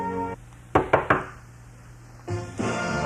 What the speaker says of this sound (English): There is a knock at the open door.